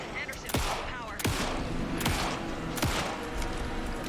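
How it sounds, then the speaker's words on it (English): Repeated gunfire bursts in the survival-horror video game Alan Wake 2, sharp shots landing at irregular intervals about a second apart over a dense, rumbling game backdrop. "Anderson, pin him down with gunfire for me to get the light on him"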